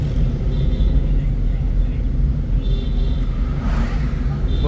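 A learner driver's car pulls away after a gear change, a steady low engine rumble with a rising surge toward the end, heard from inside the cabin with no talking.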